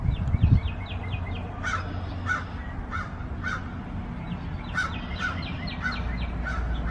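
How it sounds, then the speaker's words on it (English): Several crows caw repeatedly in short harsh bursts, some near and others farther off, over a low outdoor rumble with a brief thump near the start. "Crows are just so interesting to watch because their behaviors are so complex"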